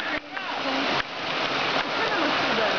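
A loud, constant roar of rushing water from the Narinetskyi waterfall crashes close by, a full broadband wash that never lets up.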